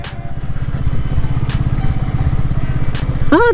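A Yamaha R15 motorcycle engine runs close and loud on a muddy road, with a fast, steady low thrum. A brief rising whine-like tone comes near the end, and nobody speaks.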